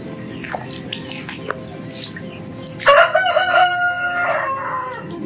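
A rooster crows loudly and close at a chicken coop during a storm with flooding, one long drawn-out call rising near the end over faint clucks and scattered background chatter.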